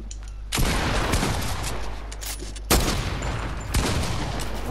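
Video game gunfire crackles in dense bursts, three loud volleys of rapid shots close by with brief gaps between them.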